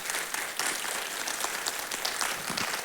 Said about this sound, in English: Please join me in giving them a hand of applause